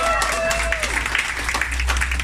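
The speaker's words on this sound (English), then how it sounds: "Share with them how to do the Elken applause." A group at an Elken company event performs a rhythmic clapping routine, loud and close, with voices mixed in.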